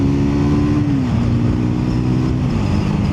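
A Triumph Scrambler 400X motorcycle engine drones loudly and steadily while riding, its pitch dipping slightly as the revs change, close and continuous with wind noise and no voices.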